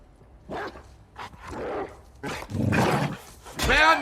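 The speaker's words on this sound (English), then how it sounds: "There was a dog with them." A dog in a video game barks and growls in several short, loud bursts that grow stronger toward the end, while a person talks over and between them.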